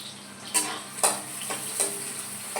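Onions fry in oil as masala is stirred in, a steady soft sizzle broken by a few clear scrapes and clinks of a spoon against the pan.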